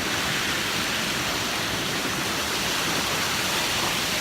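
Loud, dense rushing water roars steadily and close, like a torrent or small waterfall, with no pauses or voices.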